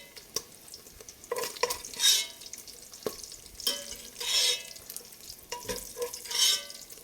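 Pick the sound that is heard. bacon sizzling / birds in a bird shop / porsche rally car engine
bacon sizzling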